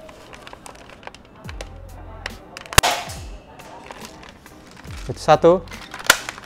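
Shots from a Dcobra AR15 M416 toy gel blaster rifle fitted with a laser: a sharp loud crack near three seconds and another near six seconds, each with a quick mechanical snap, with speech between the shots.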